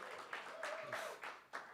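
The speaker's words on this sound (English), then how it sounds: "The crowd goes wild." A magic show audience applauds in a brief, faint burst of clapping in uneven pulses, with a thin tone running beneath it.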